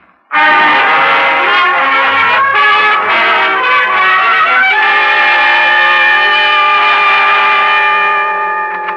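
A loud, sustained train horn blares continuously for several seconds, rich and harmonic, close by and drowning out everything else.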